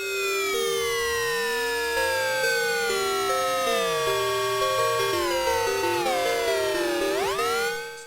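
A MiniFreak synthesizer's metallic noise oscillator glides and steps through shifting pitches with bright metallic overtones, loud and continuous, ending in a quick downward sweep.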